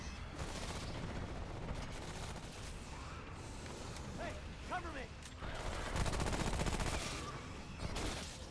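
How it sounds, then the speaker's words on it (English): Sustained automatic gunfire rattles through a Remnant: From The Ashes fight, dense and continuous with heavier bursts toward the end, while voices talk faintly underneath. "Why are you shooting at me?"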